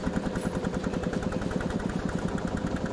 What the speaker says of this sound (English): The tractor noise is good too